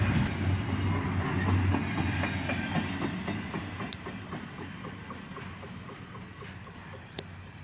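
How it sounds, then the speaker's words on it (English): An intermodal freight train passes close by, its wheels clacking in a steady rhythm over rail joints under a continuous loud rumble that slowly fades, with a faint squeal near the end. "And there goes the end of the train."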